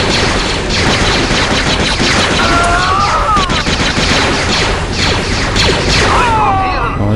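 Rapid, dense gunfire from blasters and weapons in the game Star Wars Jedi Knight II: Jedi Outcast, loud and continuous with overlapping bursts and sharp cracks throughout, plus a few brief whistling tones.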